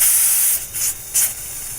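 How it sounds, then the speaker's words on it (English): A pressure cooker cooking spiral pasta vents steam in a loud, continuous close hiss, with two brief surges in the spray. "I've actually got the steam coming out now"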